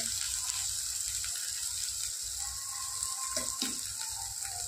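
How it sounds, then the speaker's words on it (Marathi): Masala fries in a pan with a steady, hissing sizzle that runs throughout, close and fairly even, with a few soft clinks partway through. "आणि हा चांगल्या प्रकारे मसाला परतू द्या."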